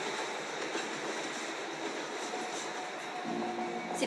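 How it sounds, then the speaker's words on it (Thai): A train rolls by in a music video, a steady rumbling clatter of wheels on rails that swells slightly near the end, with a brief squeal and no talking. "นี่คือเป็นรถไฟเหรอ"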